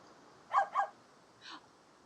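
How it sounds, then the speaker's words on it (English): A small ice pup dog in the video game Carto gives two quick yipping barks, then a softer third yip a moment later, clear and close against a quiet background. "One of the ice pups smuggled aboard."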